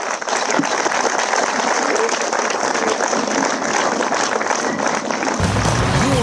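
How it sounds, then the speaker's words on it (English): A festival audience cheers and applauds for car designer Ian Callum at the Aston Martin Heritage Festival, a loud, continuous wash of clapping and crowd noise that holds steady throughout. "big cheer, big round of applause for Ian Callum"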